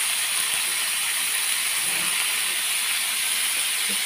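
Cucumber and green beans stir-fried in a pan give a loud, continuous sizzling hiss that fills the whole moment, with faint scraping of stirring beneath it and no talking.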